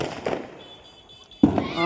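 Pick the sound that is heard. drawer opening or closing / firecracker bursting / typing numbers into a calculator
firecracker bursting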